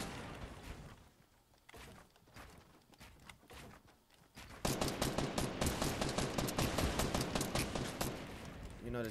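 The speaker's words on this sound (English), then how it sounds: "Ooh, someone's shooting at me." Video-game gunfire: scattered shots at first, then a loud rapid automatic burst of evenly spaced rounds running for several seconds.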